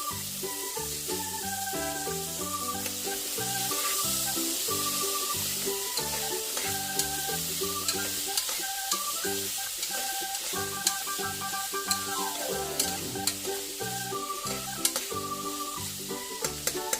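Masala with green peas frying in oil, stirred steadily in the pan, a continuous sizzle with occasional scraping under melodic background music, no speech.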